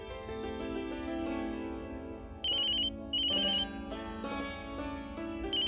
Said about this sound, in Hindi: वर्षा का फोन है।